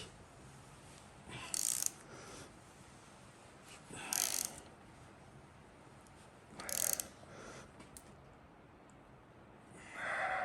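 A torque wrench ratchets on cylinder head bolts while they are angle-tightened on a Renault Dacia D4F 1.2 16v petrol engine: three short bursts of metallic clicking, faint and close, in a quiet workshop.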